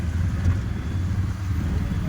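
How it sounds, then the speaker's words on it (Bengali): Riding in a rickshaw through a street in Mumbai gives a constant low, rumbling drone of the moving vehicle, steady and fairly loud for the whole short stretch. "এখন রিক্সায় করে যাচ্ছি"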